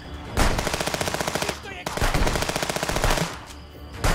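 Rapid automatic gunfire aimed at enemies in the video game Contraband Police, two long sustained bursts of rattling shots separated by a brief pause, loud and close.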